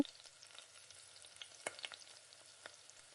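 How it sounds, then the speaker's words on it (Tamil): Mustard seeds crackle and pop rapidly in hot oil, small sharp spits scattered over a steady sizzle, close by with no voices. "கடுகு நல்லா பொரிஞ்ச உடனே கருவேப்பிலை சேர்த்துக்கோங்க"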